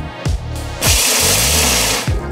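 A blender grinds whole almonds with espresso, a loud continuous whirring roar that runs steadily through most of the stretch, bracketed by short bursts at start and end.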